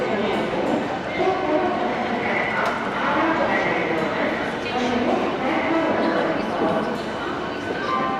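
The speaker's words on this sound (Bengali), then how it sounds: "তো দেখো প্ল্যাটফর্মে তো ট্রেন ঢুকে গেল" A Howrah–Digha local train pulls into platform 9 at Howrah station, a steady rolling rumble with wheel clatter up close, and a person talks over it throughout.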